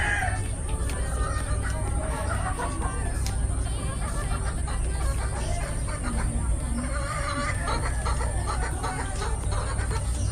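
Chickens cluck continuously amid a busy barnyard, with people chattering in the background and a steady high-pitched hum running throughout.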